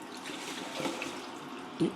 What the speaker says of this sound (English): I'm now going to pour the rest of the sterilising